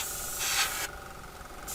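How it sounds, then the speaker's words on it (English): An airbrush lets out a short, soft hiss of air at 22 psi, a brief spray burst heard up close in a quiet room. "move it off a little bit, just a little squirt, 'cause it only takes a little push of the air"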